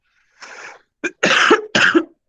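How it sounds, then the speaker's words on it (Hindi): A person coughs several times in a short cluster, close and fairly loud, starting with a light breathy cough followed by harsher, throaty bursts. "खांसी है मुझे आज"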